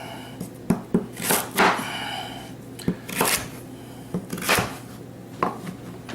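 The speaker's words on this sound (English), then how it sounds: "Here again, I'm going to slice these in half." Knife cutting carrots into inch-sized chunks on a cutting board for a crockpot stock, giving a handful of separate sharp chops and clacks spaced irregularly, close and moderately loud, with no talking.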